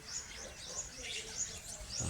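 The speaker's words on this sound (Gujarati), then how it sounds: "પક્ષીઓ ચહલ પહલ, સવારનો નજારો." Birds chirping in the morning, small high calls scattered across a short outdoor stretch, moderately faint, with a low rumble rising at the end.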